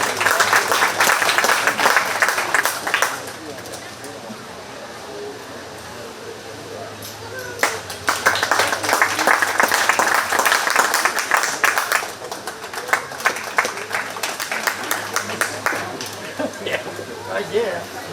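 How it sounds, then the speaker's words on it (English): Crowd applause at a 4-H cattle show at a county fair, broken into bursts of clapping with lulls between them, with talk heard through it. "Let's give this group another round of applause."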